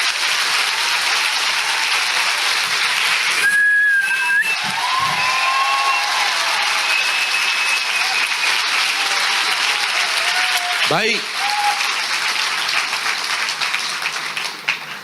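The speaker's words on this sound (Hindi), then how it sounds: "आइए प्रभु के लिए एक जोरदार ताली बजाएंगे।" A church congregation bursts into sustained applause with whistles rising above it, loud and continuous throughout, with a brief spoken word from a man partway through.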